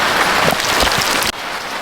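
Steady, heavy rain pours down on a farm in Jamaica, a dense continuous hiss that suddenly drops in intensity near the end, with no talking.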